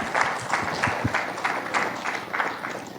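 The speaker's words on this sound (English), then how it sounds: "they deserve a round of applause for coming on board with us as a partner" A small audience at the launch of the Saint Lucia Arts Festival claps for a festival partner, a moderately loud patter of hands with a loose, slightly uneven rhythm and a few heavier beats, continuing steadily throughout.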